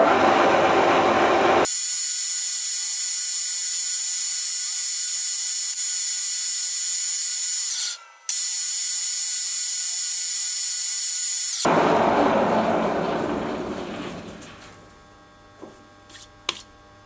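A two-stroke cylinder head is being faced on a machine, taking half a millimetre off, producing a loud, steady cutting whine with a brief dropout that then winds down and fades to quiet.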